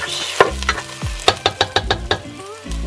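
Garlic, ginger and onion sizzling in a hot pan while a spoon stirs them, a run of about six rhythmic scraping strokes over continuous frying crackle, loud and close.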